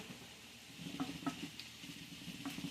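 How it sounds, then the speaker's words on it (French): Quiet steady sizzling of vegetables frying in a pan, with a few soft scrapes and clicks of stirring. "je fais revenir des petits légumes"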